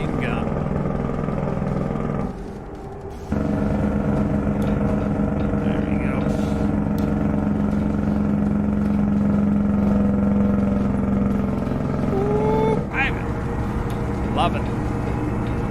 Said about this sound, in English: That's what makes it and breaks it for me is the sound of the truck.